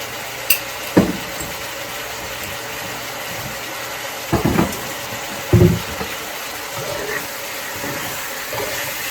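Chicken pulao with salt frying in a pan, a steady sizzling hiss with a few sharp scraping knocks of a spoon stirring against the pan, close and fairly loud, no talk.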